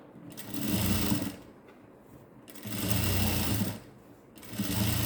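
A sewing machine runs double stitching along a blouse sleeve, whirring in three steady bursts separated by short quiet pauses, close and alone.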